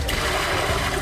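Water pours steadily into a pot of lentils for khichdi, a continuous loud rushing splash lasting the full second with no voices.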